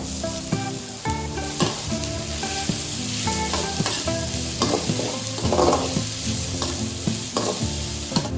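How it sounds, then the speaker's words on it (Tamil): Boiled vegetables and onions for paneer fried rice are stir-fried in a pan, loud and close, with an oily sizzle and repeated clanging spatula strokes against the metal in an uneven rhythm; no speech. "அப்புறமா வேக வச்ச வெஜிடபிள்ஸ் இதில் போட்டு ஃப்ரை பண்ணிக்கலாம்"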